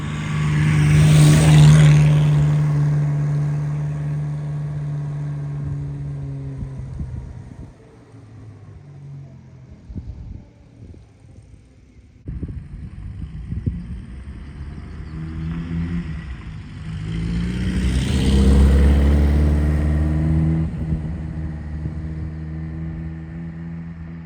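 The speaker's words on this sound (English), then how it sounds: "Listen to that straight cut gears. It's a lovely noise." A car with straight-cut gears drives past, its engine and gear whine rising loud close by, fading to a low rumble, then swelling again as it passes a second time, with no voices.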